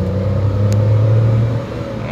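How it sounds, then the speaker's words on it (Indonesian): Karimun Wagon AGS car accelerating, a steady, close engine hum with a rising low drone that eases off near the end. "Nah, itu wagon sedang berakselerasi."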